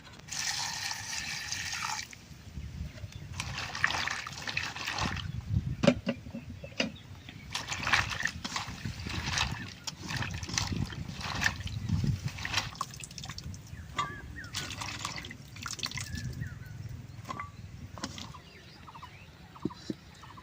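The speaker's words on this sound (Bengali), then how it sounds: "ওখানে আবার আমি কচলিয়ে ধুয়ে নেবো" Cut pieces of raw green mango being squeezed and rinsed by hand in water, with continuous sloshing, splashing and dripping at close range and scattered sharp clinks throughout, fairly quiet overall.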